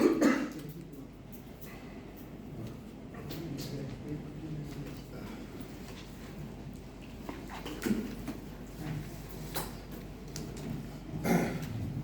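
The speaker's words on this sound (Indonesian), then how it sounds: "saya lagi batuk-batuk" Person coughing a few times during a lecture, short harsh bursts near the start, around eight seconds and again near the end, faint and close against a hushed room with a steady background murmur.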